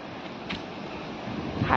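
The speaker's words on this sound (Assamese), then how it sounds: "এতিয়া বৰষুণ আৰু বতাহো বতাহ" Brief blustery wind noise from Cyclone Remal in Assam rushing against the microphone, with a constant hiss that could be rain; no speech.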